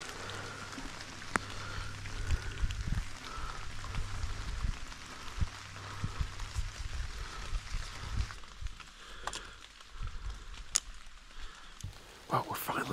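Rain falling in Pennsylvania woods during muzzleloader deer season, a soft continuous patter and drip with occasional louder drops and rustles nearby, with someone speaking at moments.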